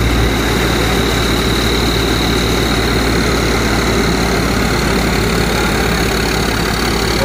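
A Mukandgarh threshing machine driven by a tractor runs at full revs, giving a loud, close, unbroken engine roar with a constant low rumble and mechanical vibration throughout.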